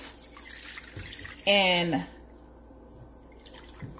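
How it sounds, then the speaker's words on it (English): Water gushes for about half a second into a pot of pepper soup while it cooks, a rising pour set against a quiet kitchen background with a brief spoken word. "I'm gonna go ahead and pour some more water into that soup."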